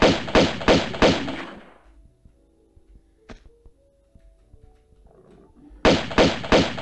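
Gunshots in the video game Tomb Raider, a quick run of four sharp shots, then a quiet stretch with faint thuds, then another run of four shots, no talking.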